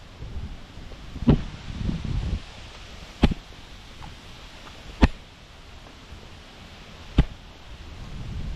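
Wind rushes steadily through leaves on a blustery morning walk outdoors, a constant broad rustle with a few sharp, isolated cracks like snapping twigs spaced a couple of seconds apart.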